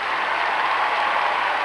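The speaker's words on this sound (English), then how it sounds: "Good hand from the crowd here." Applause from the crowd at the 2005 Nationals for a men's free skate, a broad, steady wash of clapping filling the arena at an even level with no voices on top.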